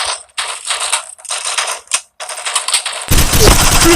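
Automatic weapon fire in the mobile shooter game Forward Assault, loud repeated bursts separated by brief pauses, ending in a heavier, fuller volley that runs to the end, close and with no talk.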